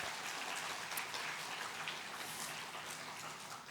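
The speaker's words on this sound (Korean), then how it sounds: "박수로 격려하면 좋겠습니다" Church congregation applauding at a Wednesday worship service, a dense, even patter of many hands at a steady level, fairly soft and distant, with no voices over it.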